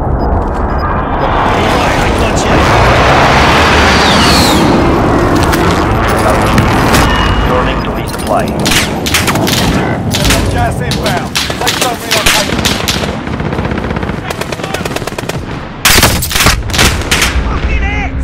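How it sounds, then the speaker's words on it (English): Heavy gunfire and explosions from an allied precision airstrike in Call of Duty Modern Warfare: a dense roar at first, then a long run of sharp bursts and cracks, loud and close, with voices calling out over it. "Allied precision airstrike incoming."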